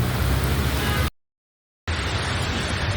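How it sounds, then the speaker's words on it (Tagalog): Heavy rain pours in a steady, loud, dense roar, broken by one short stretch of total silence before resuming just as strong. "Ang lakas na naman ng ulan ngayon."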